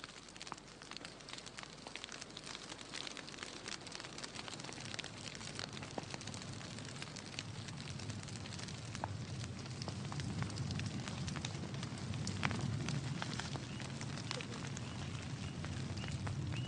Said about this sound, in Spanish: encienden fuegos para limpiar las zonas donde plantarán